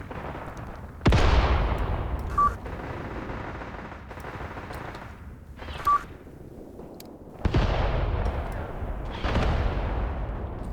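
High-explosive mortar rounds fired in the video game Graviteam Tactics, several loud booming launches and impacts spaced a few seconds apart, each with a long rumbling decay, and small beeping interface tones between them.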